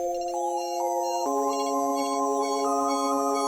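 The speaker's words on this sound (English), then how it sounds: "I used this Mandelbrot preset from this Mirror's Portal Bank" A synth melody runs through Portal's Mandelbrot preset from the Mirror's bank, giving sustained stacked tones a fluttering, gliding texture with sweeping overtones as the pitch steps change. It is loud and continuous, with no voice.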